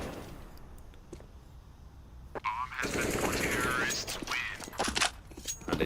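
Rapid gunfire and clattering action in a Counter-Strike pistol round at a Pinnacle Cup esports match, dense bursts of shots and footsteps building in intensity, with a caster talking over it.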